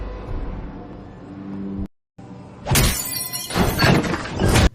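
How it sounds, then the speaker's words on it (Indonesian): Glass shatters loudly in a villa room in a crime dramatization: after a dull rumble and a brief gap, a crash bursts into several sharp, bright breaking bursts over the next two seconds. "terdengar suara pecahan kaca"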